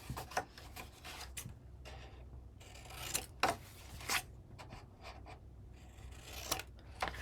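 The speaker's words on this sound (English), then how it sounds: "I'm going to cut from the corner of one to the corner of the other" Scissors cutting paper corner to corner for a Halloween paper craft, a series of close, crisp snips and rasping strokes spaced irregularly, quiet with short gaps between cuts.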